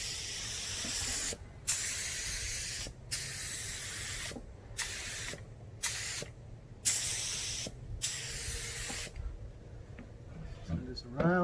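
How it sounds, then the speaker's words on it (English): Paint hisses from a spray gun onto Mandalorian Beskar costume armor in repeated bursts of about a second each, separated by short pauses, close and steady. "You have to mix it to get it to where you can spray through the gun"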